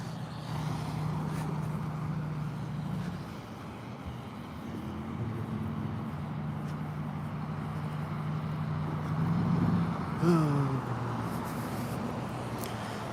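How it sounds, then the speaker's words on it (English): A motorcycle engine running on the road just ahead: a steady, droning hum amid traffic noise, swelling briefly and shifting pitch near the end, with no voices. "This loud engine in front of me."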